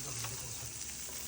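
Flour-coated fish fries in a pan with a soft continuous sizzle, quiet and close, with no one speaking over it.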